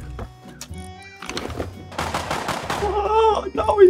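Gunfire in the survival video game Rust: bursts of rapid shots and thuds, building louder toward the end, mixed with game sounds and a voice talking over the action.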